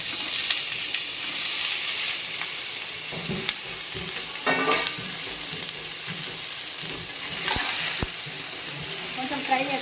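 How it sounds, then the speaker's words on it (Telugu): Paneer frying in a pan until golden, a steady loud sizzle with bursts of crackling and occasional stirring scrapes, with no talk over it. "పన్నీర్ ఇప్పుడు దాన్ని ఫ్రై చేయాలిగా. ఫ్రై చేసుకుందాం."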